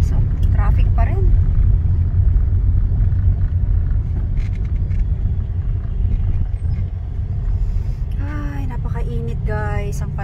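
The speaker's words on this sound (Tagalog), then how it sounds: "traffic pa rin" Steady low rumble of road traffic on a hot day in a city street in the Philippines, with cars and trucks passing continuously, while a person talks over it throughout.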